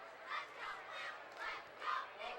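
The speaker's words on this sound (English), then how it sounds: "Got the crowd fired up, and that's the spark the Bulldogs offense needs" High school football crowd at a Bulldogs game against Glenbard South cheering in faint, distant rolling swells, several rising and falling waves of voices.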